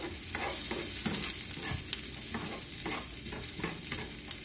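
Chopped onion frying in a pan with steady loud sizzling, broken by repeated scraping stirs of a utensil, close up with no talk.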